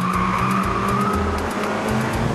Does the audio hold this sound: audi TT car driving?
yes